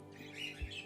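A pet male bird beside its chicks gives a brief, single squawk at close range, with no talking over it.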